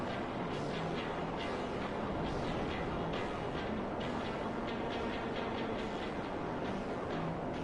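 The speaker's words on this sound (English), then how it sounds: "Here, another train." A train rolls past in the video game GTA Online, a steady dense rumble with faint rhythmic clatter that stays loud and constant for the whole stretch.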